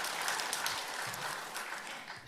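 A church congregation claps to encourage a child who has just read the Bible aloud at an Advent dawn prayer service, a steady wash of applause from many hands, moderately loud and unbroken, with no voices.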